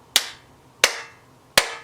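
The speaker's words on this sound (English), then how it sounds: "So like prayer position clapping" Hands clapping flat together in prayer position, three sharp, loud claps evenly spaced about two-thirds of a second apart, close up in a quiet room.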